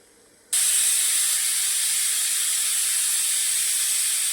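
A pressure cooker cooking dried cowpeas bursts into a loud, continuous steam whistle after a brief quiet moment, then holds a steady, hissing blast close by.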